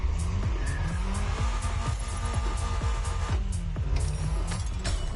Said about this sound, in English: Watch out, this car!